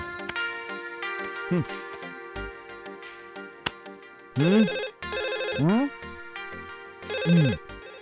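A telephone bell rings in repeated bursts, loud and close, with a musical tone sweeping beneath some rings.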